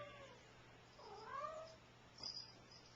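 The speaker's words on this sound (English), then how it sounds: "My cat's freaking out." A cat caterwauls in a loud, wavering yowl around the middle, followed by a shorter, higher cry near the end, over a steady low background hum with no speech.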